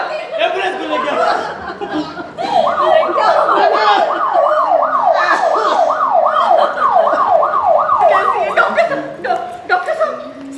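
A loud ambulance siren wails in a fast rising and falling cycle for several seconds. Agitated voices are heard around it in a dramatic scene.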